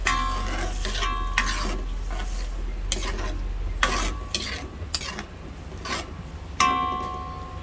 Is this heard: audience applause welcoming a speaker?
no